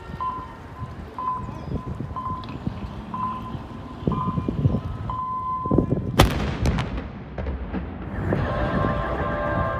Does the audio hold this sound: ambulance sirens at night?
no